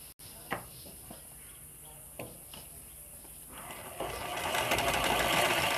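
A sewing machine stitching blouse fabric, heard as a few soft clicks and taps before a quiet, rising mechanical whir builds in the last couple of seconds, fairly close by.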